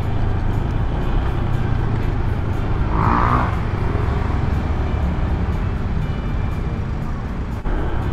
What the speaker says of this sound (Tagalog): Traffic, oh.